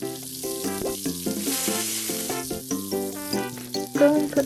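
Curly fries sizzling at the fry station in the cooking game Papa's Cheeseria, a steady bright frying hiss under cheerful game music with tinkly notes, no talk.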